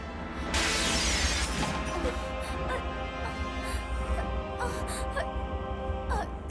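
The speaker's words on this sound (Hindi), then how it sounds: "अरे जल्दी से कोई कांच तोड़ो।" Glass breaks with a bright shattering crash during a dramatic scene in the South Indian action film Ek Aur Rajkumar, followed by tinkling debris under swelling orchestral music.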